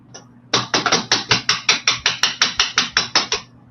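A small hammer, Metal Complex brand, taps aluminum wire during wire working. About sixteen sharp, even, close strikes follow a brief quiet start, in a steady quick rhythm.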